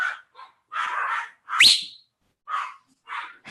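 Dogs barking in short bursts in the background during a live stream, several yelps and barks with a sharp whistle-like sound among them, fairly loud and with no talking.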